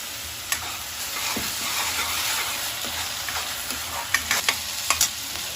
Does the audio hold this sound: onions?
yes